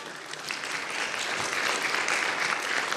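Audience applause at the end of a web developer conference talk, a dense wash of clapping that holds steady and swells slightly toward the end, moderately near and without voices over it.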